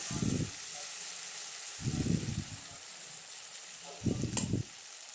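Spices sizzling in hot oil in a pan while dal is prepared, heard as three short bursts of frying spread across the moment, with a steady low hiss between them.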